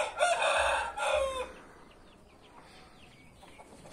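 Hens sharing one nest cluck and squawk loudly in a couple of close bursts during the first second and a half, then fall to faint quiet rustling.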